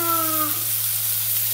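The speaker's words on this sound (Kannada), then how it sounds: "ಈಗ ಟೊಮ್ಯಾಟೊ ಹಾಕಿ ಸ್ವಲ್ಪ ಫ್ರೈ ಮಾಡ್ತಾ ಇದ್ದೀನಿ" Tomato frying with onion in a pan while cooking dahi aloo, a steady close sizzle with a faint tonal hum underneath and no talking.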